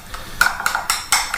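A spoon stirs a garlic butter mixture in a bowl, making four or five distinct clinks and scrapes in an uneven rhythm, close and clear with no talking.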